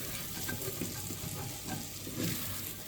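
Onions and garlic stirred in a pan for beef bourguignon give a quiet, continuous sizzle with soft scraping strokes along the pan bottom, steady and moderately close, without speech.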